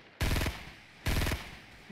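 Two short bursts of rapid automatic gunfire in Fortnite, about a second apart, each a loud close rattle of several shots that cuts off abruptly.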